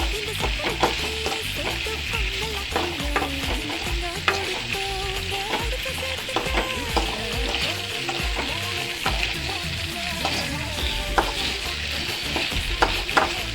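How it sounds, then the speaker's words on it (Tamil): Cheese pasta being stirred and fried in a pan, with a continuous loud sizzle and frequent scraping and clacking of the utensil against the pan throughout, no voices. "பாஸ்தா நல்லாவே மிக்ஸ் பண்ணிடுங்க."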